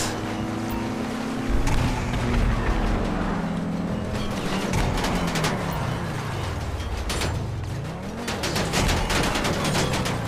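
Rockets firing and exploding in GTA V Vendetta adversary mode, a dense run of blasts and whooshes over steady engine drone, with bursts clustering near the start and again toward the end.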